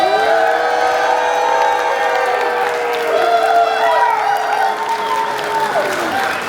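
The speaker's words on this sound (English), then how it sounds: "Let's give him a giant round of applause" Audience applause and cheering fill the room at an award ceremony honoring Ed Greenwood, a dense, sustained wash of clapping with tonal music-like sounds running underneath.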